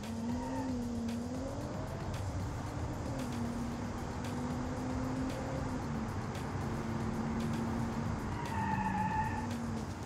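A 1975-style premium GT with a 6.2-liter turbocharged V12 accelerates hard in the BeamNG driving game, its engine drone rising and shifting in pitch steadily and close for the whole stretch.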